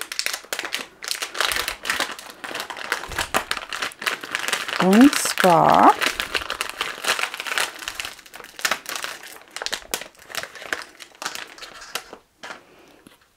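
A plastic bag crinkles and rustles steadily while a person talks over it, the crackling continuing in quick irregular bursts.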